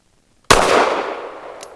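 A single sharp, loud gunshot from a Kel Tec P15 pistol firing Fiocchi 147 grain Defense Dynamics hollow points cracks out after a short silence, then its echo decays over about a second, with a faint metallic tick following.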